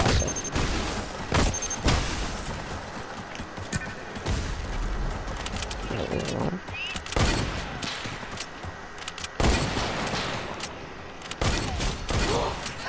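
Sniper rifle no-scope shot in a first-person shooter game, a loud booming crack amid repeated heavy gunfire bursts and constant background battle noise.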